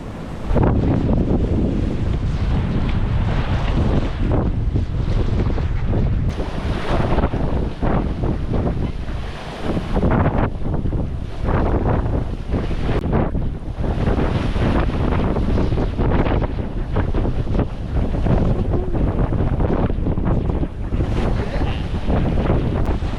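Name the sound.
wind gusting around a sailboat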